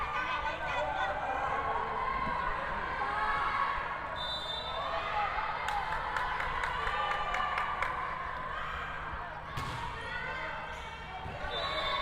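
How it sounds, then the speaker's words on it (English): A spirited home crowd cheers for National University in an indoor Smart Spike 2025 volleyball match against ICC. The roar is steady and loud, with scattered claps and bounces throughout, and a commentator talks over it. "our ever energetic NU crowd"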